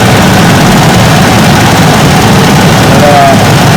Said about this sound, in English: I still got to figure out why it's got such a rough idle.